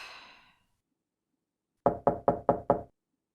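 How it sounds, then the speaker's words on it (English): Five firm knocks on a door, evenly spaced and sharp, sounding close after a short fading sigh-like breath and a moment of silence, in an audiobook reading. "and giving 5 firm knocks"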